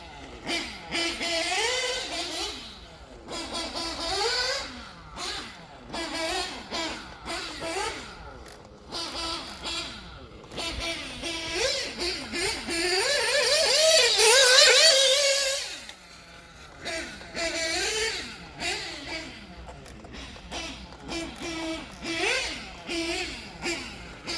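A Force Pro 21 nitro engine in an RC car buzzes and whines as it is driven, its pitch rising and falling constantly with throttle, swelling to a louder, sustained scream before dropping back to fluctuating revs.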